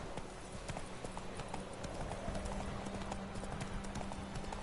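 Hoofbeats of Roach, the horse in The Witcher 3: Wild Hunt, moving at speed in a rapid, even clip-clop rhythm that runs throughout at moderate, slightly distant loudness.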